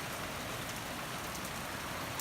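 Heavy rain pours down outside a window, a dense steady hiss of drops hitting surfaces with no breaks, close and even throughout, no voices.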